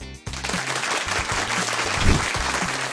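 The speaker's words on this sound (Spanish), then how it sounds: "Recibámosla con un fuerte aplauso." A class applauds to welcome a teacher, steady clapping throughout with musical tones underneath.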